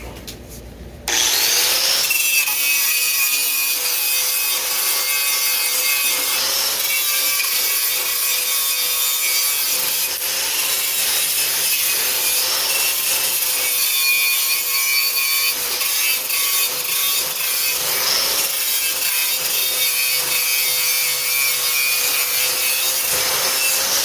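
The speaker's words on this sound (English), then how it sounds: "the muffler's a little surface rust, but nothing too serious, so I'm just going to give it a brushing" A wire brush scrubs surface rust off a go-kart muffler, giving a steady, loud, close rasping with a whirring tone throughout, suggesting a powered brush, with no talking.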